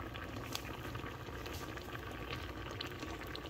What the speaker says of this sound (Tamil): முற்பாலோட கொதி வந்துட்டு